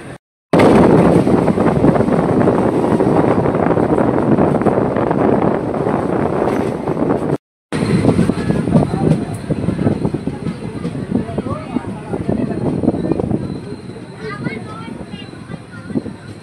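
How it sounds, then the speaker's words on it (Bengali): The 13146 Jangipur Road–Kolkata Express runs between Azimganj and Katwa, giving a loud, steady rumble and rattle of the moving train. It drops out briefly near the middle, then returns slightly rougher and fluctuating. "আমাদের ট্রেন আজিমগঞ্জ থেকে কাটোয়া যাওয়ার উদ্দেশ্যে 72 কিলোমিটার পথ পাড়ি দিয়ে"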